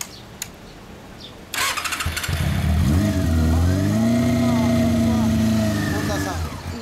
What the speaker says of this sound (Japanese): オッケー、エンジン音聞かせてもらえるかな。